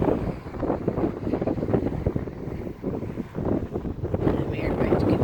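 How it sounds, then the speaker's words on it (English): Strong wind buffets the microphone high in the California mountains, a continuous loud rough roar with gusty surges and no pauses. "It's very windy right now up here."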